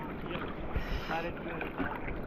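Wind blowing at a beach, a steady rushing roar buffeting the microphone, loud and continuous with a low rumble underneath.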